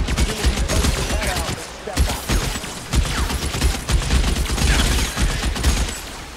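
Heavy continuous gunfire in the video game LA Noire during a tunnel fight, loud overlapping bursts and shots packed densely throughout without pause.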